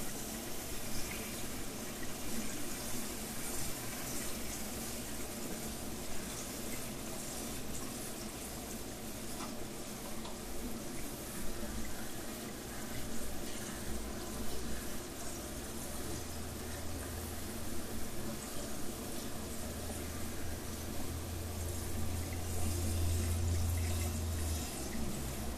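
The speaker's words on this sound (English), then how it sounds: "you just want to spray this with cold water since it is a cold salad" Cold water sprays and rushes steadily from a tap over noodles, a continuous hissing splash that runs without pause and swells slightly louder toward the end.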